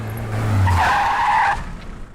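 Car tires screech in a sharp skid, a loud high-pitched squeal lasting under a second over a low engine drone that fades out afterward.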